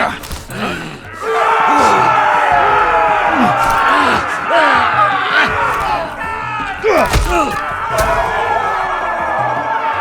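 An arena crowd roars and bellows loudly in Telltale's Game of Thrones game, a dense wall of cheering with surging shouts and thuds, mixed with speaking voices throughout.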